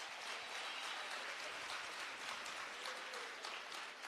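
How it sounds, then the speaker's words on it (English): Applause from a student assembly of the Economic Freedom Fighters Student Command, a steady, dense wash of many hands clapping at a fairly quiet level, continuous throughout without voices. "Give yourself a round of applause"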